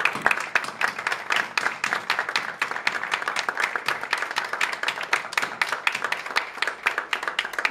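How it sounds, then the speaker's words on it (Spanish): Audience applause at a puppeteers' forum in honour of Eduardo Di Mauro, a steady, dense clapping from many hands that holds evenly throughout without a break. "Un aplauso grande para Eduardo."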